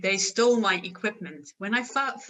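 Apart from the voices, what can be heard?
None of the usual background noises is heard.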